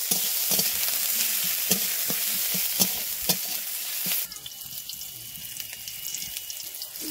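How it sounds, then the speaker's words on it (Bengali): Onion, garlic and green chili frying in oil, a dense close sizzle with repeated sharp spoon taps against the pan, then the sound thins to a quieter simmer for the last few seconds, no voices. "পেঁয়াজ দেবো, রসুন, কাঁচা লঙ্কা দেবো"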